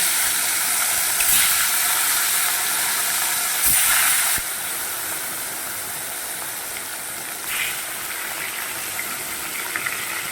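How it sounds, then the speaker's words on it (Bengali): Fish belly pieces for fish kalia fry in hot oil, a steady loud hiss and sizzle with brief stronger bursts of spattering, close and continuous. "এবার আমি মাছের কালিয়ার জন্য দেখুন কি সুন্দর পেটিগুলো এবার আমি ভেজে নিচ্ছি।"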